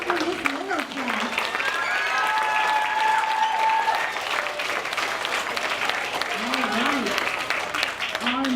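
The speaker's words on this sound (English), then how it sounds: "a round of applause for Miss Miller's class" Sustained crowd applause fills a school DARE graduation ceremony as one class is honored, with scattered cheers and voices rising over the steady clapping.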